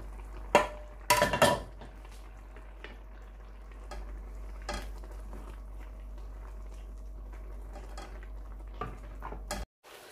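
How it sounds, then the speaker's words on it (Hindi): Gajar ka halwa, grated carrot with boiled milk, simmering on low heat in a pan while a spoon stirs and scrapes against the metal in a few loud bursts, then softer intermittent clinks over a steady low hum; nobody speaks. "अब इसमें मैं ये जो दूध मैंने बॉईल किया था वो ऐड कर दूंगी। और इसको लो हीट पे मैं पकाऊंगी"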